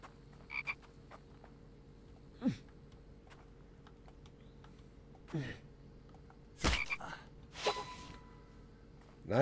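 Frogs croaking in the survival game The Infected, a few scattered croaks and short chirps spaced over quiet game ambience, moderately near and not loud.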